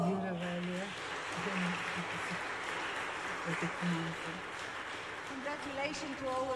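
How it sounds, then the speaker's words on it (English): Audience applause at a media prize ceremony runs as a steady, moderate wash beneath a voice talking over it, mixed with low hum and room tone throughout. "I want you to make more applause for these people"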